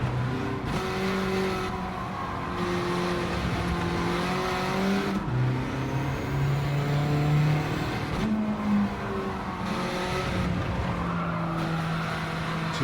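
A Honda Beat '91 with a K20 engine swap races at Autopolis in a Gran Turismo 7 Kei Cup. The engine drones steadily, its pitch rising and dipping through the gears. Tires squeal through the corners, and no one speaks.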